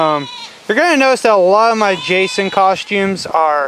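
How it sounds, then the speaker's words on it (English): Goats bleating outdoors in the background, wavering calls mixed in under someone talking close to the microphone. "if you can hear that, that's my goats in the background"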